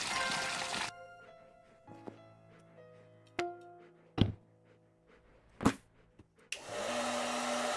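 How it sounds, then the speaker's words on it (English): A hair dryer whirs loudly, switches off, then after a stretch of quieter hum and several sharp knocks and thumps, roars back on. "Just a hair dryer."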